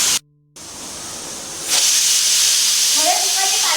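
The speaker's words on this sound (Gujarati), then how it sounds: "કુકરની સીટી વાગવાની શરૂઆત થઈ ગઈ છે." A pressure cooker cooking soya chunk curry vents steam in a loud, steady hiss that cuts out briefly, resumes, and swells stronger partway through, with no voices over it.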